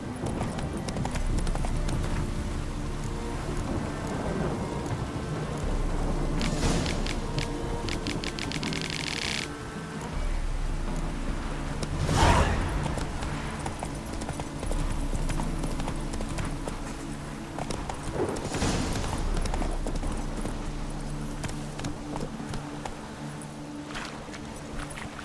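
Roach, a horse in The Witcher 3, gallops with rapid rhythmic hoofbeats over a steady game soundscape, continuous and moderately loud for the whole stretch.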